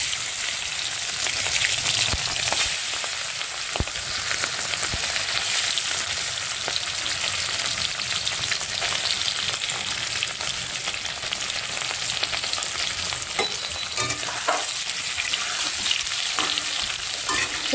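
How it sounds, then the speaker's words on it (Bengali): Cut boiled eggs frying in oil in a hot kadai, a dense, steady crackling sizzle with occasional pops and spatters throughout. "এবারে কড়াইটা গরম হয়ে গেছে, আর আমি তেল দিয়ে দিয়েছি। আর এবারে এই যে কেটে রাখা ডিমগুলো আমি ভেজে নেব"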